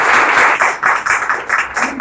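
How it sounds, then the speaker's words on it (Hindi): Loud applause from an audience at a training event, a dense burst of many hands clapping with rhythmic swells, close and filling the whole moment without talk over it. "इनके लिए एक बार जोरदार तालियां"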